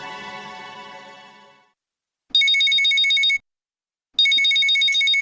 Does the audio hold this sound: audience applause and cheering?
no